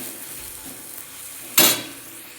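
Garlic and green chili paste is stirred into fried onions in a pan, a soft continuous sizzle with a sharp scrape or clink of the spoon near the end.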